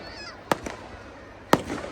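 Fireworks being set off at a Dussehra celebration in Nainital, two sharp loud bangs about a second apart, each with a short crackling tail, over faint background noise.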